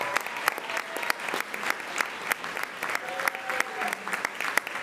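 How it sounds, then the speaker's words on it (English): Audience applause fills a school board meeting, steady clapping from a room of people holding for the full stretch at moderate volume, with faint voices mixed underneath. "Give them also another round of applause."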